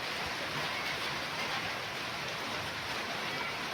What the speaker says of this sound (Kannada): ಈ ಕಡೆ ಶುರು ಆಗ್ತಾ ಇದೆ ಮಳೆ.